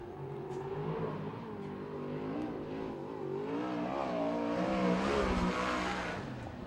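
A USAC/CRA sprint car races around the Tulare oval, its engine wailing and revving with rising and falling pitch as it laps the track, fairly distant, with no talking.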